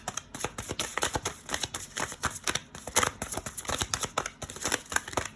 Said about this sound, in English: No more shuffle on this deck